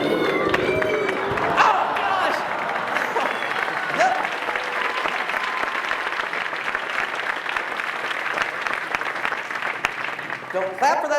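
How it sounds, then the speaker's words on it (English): An audience at a juggling convention applauds and cheers in a loud, sustained wave, and scattered voices and shouts come through the clapping. "Don't clap for that now"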